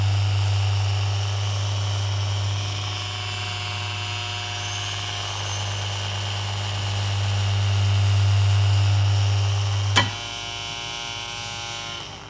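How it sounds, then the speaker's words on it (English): A small propeller spins on an electric motor model, giving a steady, fairly loud hum that swells slightly before a sharp click near the end, with no talking. "I'm going to put a little air screw on it. And when I switch this on,"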